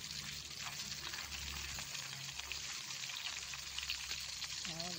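Tamban herring fish fry in a pan with a steady, close sizzle, while a voice speaks quietly beneath the crackling oil.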